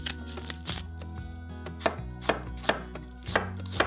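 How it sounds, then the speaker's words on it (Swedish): Onion and leek are chopped with a kitchen knife on a board for a green shakshuka, giving steady, close knife strikes over quiet background music. "Nu ska vi börja med att hacka lök och purjolök."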